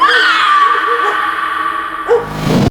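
A woman screams in a film scene, a loud, high, wavering cry held for about two seconds, then a short gasp and a second burst of distressed voice.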